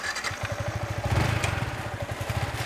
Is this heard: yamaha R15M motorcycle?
yes